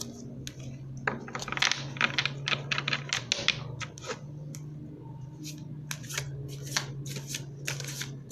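Tarot cards are shuffled by hand in a clear run of crisp riffling and slapping bursts, close and steady, over a constant low hum and without any talk.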